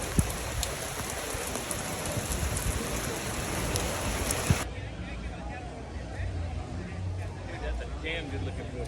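Heavy rain pours onto a vehicle at a Volkswagen car show in Eureka Springs, a dense, constant hiss and patter that is loud at first and then duller and more muffled, as if heard from inside.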